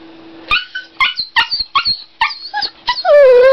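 A puppy lets out a run of short, varied whimpers and yips in bursts, then a drawn-out whining howl at the end, close and loud as if trying to vocalize.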